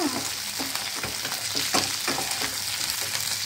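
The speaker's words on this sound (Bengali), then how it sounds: "আমি আলু পটল একসাথেই দিয়ে কিন্তু ভাজছি" Close-up pan frying of potatoes and pointed gourd: a constant hissing sizzle with scattered scrapes and taps of stirring, steady and moderately loud.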